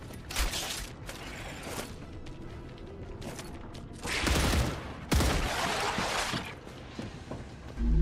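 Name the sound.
weapon reloading in a video game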